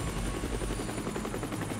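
Rescue helicopter landing on a parking garage roof during a hurricane hospital evacuation, its rotor chop a steady loud pulsing drone with a high whine above it, continuous and close with no voices.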